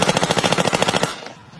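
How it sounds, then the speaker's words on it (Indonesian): A single close, loud burst of rapid automatic gunfire, about a dozen shots in quick succession, as a World War II lieutenant shoots a German prisoner, then a short fading echo. "Letnan Spears, pimpinan dari kompi D, menembaki tawanan tersebut."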